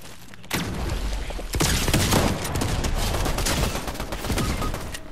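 Shotgun fire in a video game: a loud, sustained barrage of overlapping gunshots that jumps in intensity partway through, dense and close, with no speech over it.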